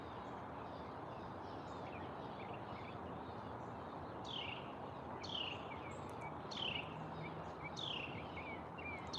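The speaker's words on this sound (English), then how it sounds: "We hear birds, we hear crickets" Faint birds chirp in short, repeated calls over a steady outdoor hiss, distant and sparse.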